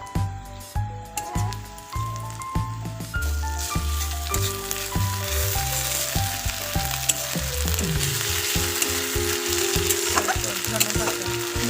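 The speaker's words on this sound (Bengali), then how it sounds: "এই দেখো, আমাদের পেঁয়াজ লাল লাল করে ভাজা হয়ে গেছে। এরপরে আদা রসুন দিয়ে দেবো আর কাঁচা লঙ্কা দিয়ে দেবো।" Onions fried until reddish in a pan, with ginger, garlic and green chillies added, sizzle loudly and steadily while a utensil stirs and scrapes with an uneven rhythm, for a bread pakora recipe.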